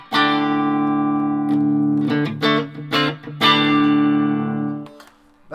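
Electric guitar played through a reverb effect, sustained chords and plucked notes ringing with a long, spacious tail like a large echoey room, several struck phrases separated by brief decays.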